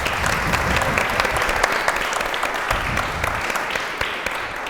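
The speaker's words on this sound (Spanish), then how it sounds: "así que también un fuerte aplauso para él." Audience at a Córdoba press conference on journalism in the digital era applauds a guest, a steady dense round of clapping filling the room for the whole stretch, fairly loud and continuous.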